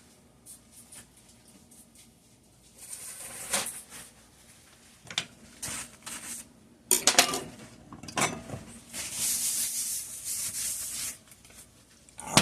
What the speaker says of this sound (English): I'm going to wipe this off